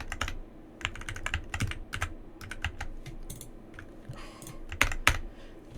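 Fast typing on a computer keyboard during game development, with bursts of sharp, close key clicks in irregular clusters and short pauses, and no speech.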